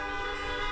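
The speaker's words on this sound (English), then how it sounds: "So we honk," Car horns honking outside a hospital in Atlanta in support of hospital workers, a steady, sustained tooting chorus heard at moderate distance with no talk over it.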